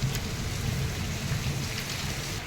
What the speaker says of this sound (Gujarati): જોરદાર વરસાદ ચાલુ છે ને દંડોળા જો કેવા પડે છે એકદમ અને વરસાદ ગાજવીજ પણ ચાલુ